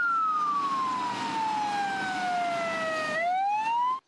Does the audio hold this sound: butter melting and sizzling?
no